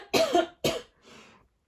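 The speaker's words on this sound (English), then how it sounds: "I'm gonna have to cough again." A person coughs twice sharply and close, followed by a softer, breathy third cough, all heard without speech.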